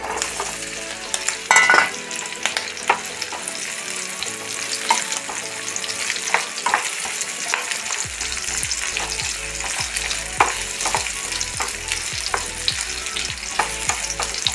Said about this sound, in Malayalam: എണ്ണ വീത്തിട്ട് നമുക്ക് ഈ മാങ്ങ ഒന്ന് ചെറുതായിട്ട് വാട്ടണം